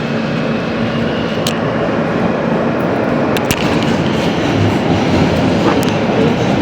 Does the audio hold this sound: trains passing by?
yes